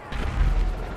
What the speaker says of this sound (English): I just hear explosions constantly going off.